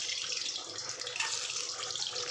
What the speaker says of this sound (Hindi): अब हम इसमें जो एग हमारे पास है उनको डाल के फ्राई करेंगे